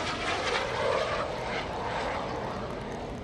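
An FLS MicroJet, a tiny jet airplane, turning around during maneuvers at the Greenwood Lake airshow, a steady distant engine roar rising slightly and holding, heard from the crowd.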